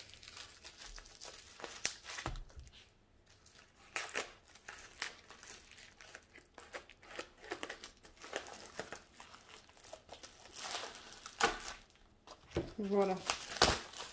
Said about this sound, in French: Donc, il y a du papier bulle.